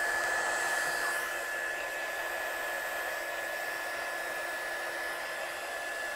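A heat tool runs steadily throughout while drying layers on a handmade card in a craft studio, a close, continuous blowing whine with a slightly louder first second and no talk.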